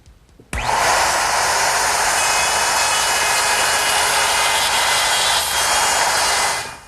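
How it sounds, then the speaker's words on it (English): A handheld router with a straight bit cuts away wood to form half of a tenon at the end of a rail, guided by a template for an umbrella stand. The motor starts abruptly and holds one steady, loud, broadband whine until it cuts off. "I'm just going to route away the material for this half of the tenon."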